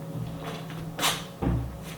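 A small drawer at a makeup table sliding and thudding shut, two close knocks about a third of a second apart over a faint room hum, with no talking.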